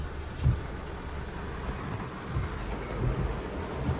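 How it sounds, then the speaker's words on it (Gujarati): Heavy morning rain pours down steadily in a market area, a dense even hiss with occasional low thumps, fairly close and without voices. "વરસાદ તો આજે સવારનો બહુ માર્કેટમાં છે આજે તો બહુ પડે છે સવારનો"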